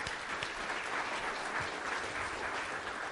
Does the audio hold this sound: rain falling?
no